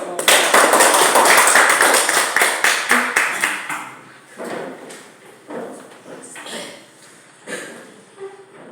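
A class applauds together, a dense burst of clapping that starts loud and steady, then thins into scattered, fading claps with some voices mixed in.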